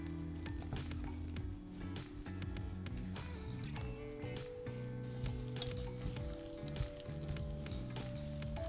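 Choux dough cooking and being stirred in a pan gives a continuous low sizzle with soft, squishy stirring sounds throughout.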